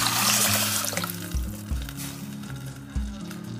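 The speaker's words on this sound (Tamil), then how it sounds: "இந்த கரைச்சி வச்சதை ஊற்றிடுங்க." Dissolved tamarind mixture being poured into a hot pan of sautéed onion and curry leaves for rasam, giving a loud liquid rush and hiss, then settling into quieter bubbling with a few clunks.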